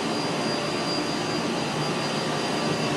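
Exhaust air venting from a large 65-ton rooftop HVAC unit, a loud, steady broadband roar of rushing air with a faint high whine, unbroken and constant throughout, with no talking.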